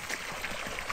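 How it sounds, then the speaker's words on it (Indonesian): Water flows softly and steadily into a fish pond at a village prayer-house construction site, a faint, even trickling murmur close by with no talk. "suara air mengalir di kolam tuh bener-bener syahdu banget"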